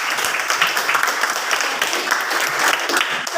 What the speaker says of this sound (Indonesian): Kita tepuk tangan untuk Cynthia.